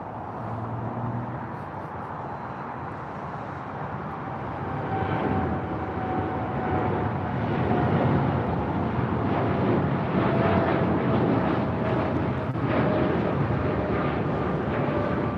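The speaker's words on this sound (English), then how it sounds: "We have Air Canada 788 now rolling on 25 right, headed out to Toronto. It's a 787-8 Dreamliner." An Air Canada Boeing 787-8 Dreamliner rolls for takeoff on runway 25 right at LAX, bound for Toronto. A broad, steady jet roar builds and holds loud with a thin whine on top, and no talk over it.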